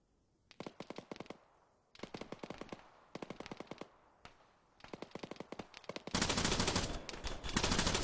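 Automatic gunfire rakes a building in a tactical shooter game, loud bursts of rapid rounds in four separate volleys, then a dense continuous roar of shooting at the close.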